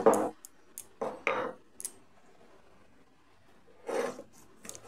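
Green chilies are crushed and ground on a grinding stone in a home kitchen, producing a few separate rasping, scraping strokes up close, with quiet pauses between them.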